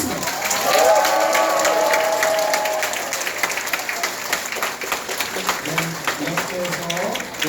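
A crowd applauds at a campaign office opening for a Daedeok-gu district head candidate in Daejeon. A voice speaks briefly at the start, then close, dense clapping continues steadily to the end.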